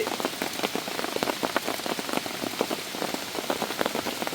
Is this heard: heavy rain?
yes